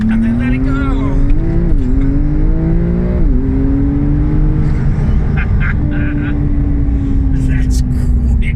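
A 2019 Porsche 992 launches hard using launch control. The engine sound climbs through rising revs with quick gear changes and then holds a loud, sustained drone. Someone speaks over the acceleration.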